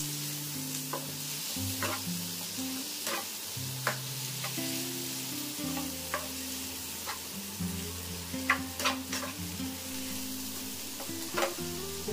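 Ingredients for potol chingri bharta, pointed gourd and prawns, sizzle steadily in a pan while a spatula scrapes and stirs in regular strokes, close and continuous with no voice.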